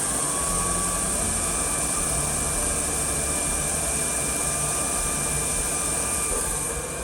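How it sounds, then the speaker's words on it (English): A precision grinding spindle hums as it spins up, with a steady high whine and broad dense whir that stays loud and constant throughout, close by and unaccompanied by talk. "It is a precision spindle, and as it's running you can hear it building up speed and getting faster and faster and faster"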